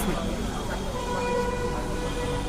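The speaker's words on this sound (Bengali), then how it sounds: "ট্রেন চলে আসছে" A metro train arrives at the Aganagar metro rail station, a low steady rumble and hum with a faint tonal whine and a brief horn-like toot, heard alongside background station noise and voices.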